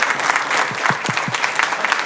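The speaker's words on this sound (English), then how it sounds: "Un aplauso fuerte." Continuous clapping from a crowd at a Board of Supervisors meeting, loud and even, with a few low thumps beneath the applause.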